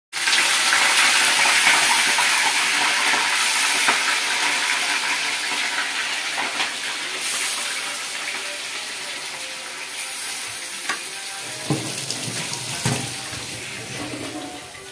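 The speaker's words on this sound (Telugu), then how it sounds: "ఇప్పుడు ఆయిల్లో వేసేసుకుందామండి" Chicken pieces for a gongura chicken pickle hit hot oil with a loud, steady broadband sizzle and hiss that rolls on continuously, easing slightly in strength toward the end.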